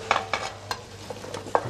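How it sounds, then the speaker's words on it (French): Squash and potato pieces sizzle in a hot pan while a utensil stirs and scrapes them, giving several close, sharp scraping strokes over a steady frying hiss. "on va mettre la courge et les pommes de terre"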